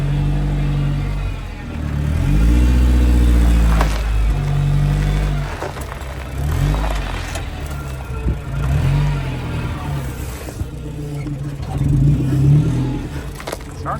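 A manual car crawls over rocks, its engine revving and easing in uneven surges while the body clatters and bumps, recorded from inside the vehicle.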